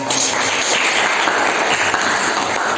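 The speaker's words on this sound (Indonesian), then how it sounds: "Tepuk tangan." Applause from a class audience in an Indonesian school lesson, a steady dense wash of many hands clapping together at fairly close range, continuous and even throughout with no voices rising above it.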